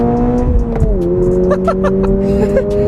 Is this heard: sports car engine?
yes